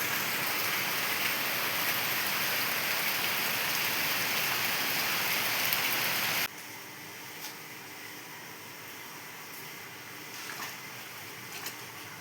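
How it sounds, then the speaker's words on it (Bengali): Heavy rain pours down outside in a loud, even roar for about six seconds, then drops off abruptly to a quieter hiss with scattered drips. "প্রচণ্ড বৃষ্টি হচ্ছে বাইরে"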